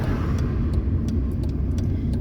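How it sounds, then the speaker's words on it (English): A Ford Fiesta's engine rumbles steadily at low revs while the car reverses, a close, continuous drone with faint small clicks above it and no talking. "I gotta reverse this car and it's freaking wider."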